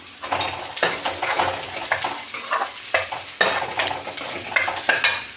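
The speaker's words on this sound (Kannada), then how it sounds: "ಚೆನ್ನಾಗಿ ಫ್ರೈ ಆಗುತ್ತೆ ಸ್ವಲ್ಪ ಉಪ್ಪು ಹಾಕೋಣ ಈರುಳ್ಳಿ ಬೇಗ ಸಾಫ್ಟ್ ಆಗುತ್ತೆ" Onions stir-frying in a hot pan with salt for a village-style sprouted horse gram bassaru, a steady sizzle punctuated by repeated scraping stirs of a spoon against the pan, close and fairly loud with no talk.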